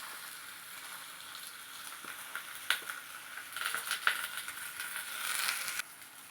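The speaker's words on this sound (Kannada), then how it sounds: "ತಾಲಿಪೀಠನ್ನು ತವಾಗ ಹಾಕ್ತಾ ಇದ್ದೇನೆ." Ragi thalipeeth fries on a hot tawa with a continuous soft sizzle that grows louder and crackles midway, with a few sharp pops.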